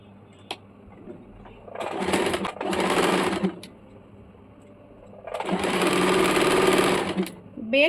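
An electric sewing machine stitches a folded belt in two steady runs of fast, buzzing needle strokes at close range, with quiet pauses between them.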